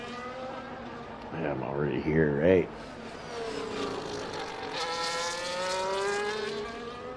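Race car engine on a fast lap during a racing broadcast, a rising and falling whine of revs and gear changes heard from a distance, with a voice speaking briefly over it.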